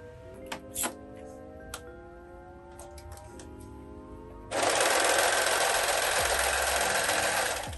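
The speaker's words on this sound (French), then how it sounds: "Là, je suis en train de coudre" A sewing machine stitches the back of a DVF-style wrap dress, its steady motor whir kicking in midway and running loud and continuous after quieter ticks and clicks.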